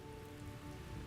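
Rain falling in Hogwarts Legacy, a steady, dense patter spread evenly across the moment with no gaps, moderately quiet and unaccompanied by voices.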